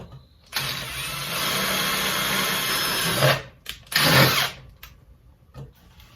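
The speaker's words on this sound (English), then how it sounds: "So let's start working on taking the screw, making a few holes." A screw is driven with a power drill into a plastic bucket to make holes: a loud, close whirring buzz runs for about three seconds, stops, then a second shorter burst follows, with faint handling noise after.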